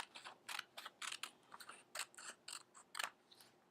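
Scissors cutting paper into separate boxes: a rapid series of crisp snipping strokes, about a dozen close, fairly quiet cuts in an uneven rhythm with no voices.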